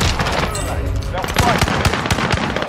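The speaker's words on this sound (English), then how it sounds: "It was a fucking single shotgun I was shooting" Shotgun fire in the battle-royale game Warzone: several loud, sharp blasts in quick succession over a busy game soundscape, with a voice partly audible.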